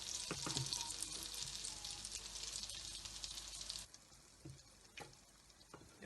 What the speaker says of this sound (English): We are going to fry our akara on a medium heat.